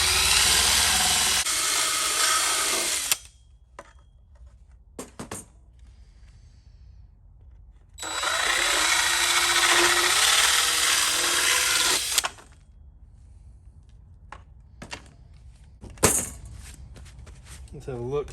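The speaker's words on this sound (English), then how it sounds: "So we'll grab the old drill, see if we can destroy this on the first try" A power drill whines loudly in two long bursts, cutting through metal, with pauses between filled by quiet clinks and handling noises.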